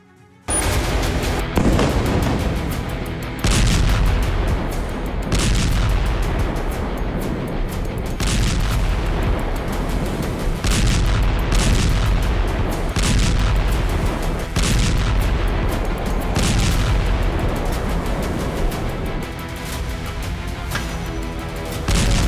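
Heavy booms and artillery fire from Israeli strikes on Iranian proxy positions in Syria and Lebanon, a dense, loud barrage of repeated blasts and crackling gunfire with no voices.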